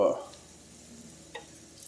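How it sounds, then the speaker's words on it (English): A quick hiss and sizzle as a little water hits a hot pan of Brussels sprouts and bacon on the stovetop, fading to a soft crackle, with a faint clink a moment later. "little splash of water. That's just a little one."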